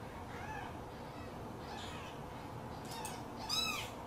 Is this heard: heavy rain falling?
no